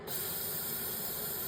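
An airbrush sprays water through its nozzle to flush it clean before a custom paint job, a steady close hiss lasting the whole moment with no voices.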